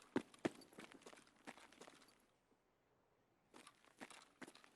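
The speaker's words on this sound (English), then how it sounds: "I think we just heard footsteps." Footsteps crunch across the ground in Escape from Tarkov, a run of quick, close steps with gritty scuffs, pausing briefly into near silence before resuming just as rapidly.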